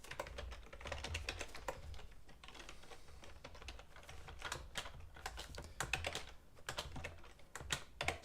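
Rapid keystrokes clatter on an unfamiliar computer keyboard in irregular bursts with brief pauses, soft and close, with no voices over the clicking.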